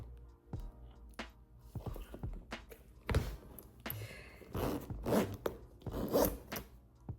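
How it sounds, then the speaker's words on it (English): A zipper on a Louis Vuitton handbag is drawn closed in several quick rasping pulls, close and clear, with soft handling thumps between strokes and no talking. "And zips up perfectly."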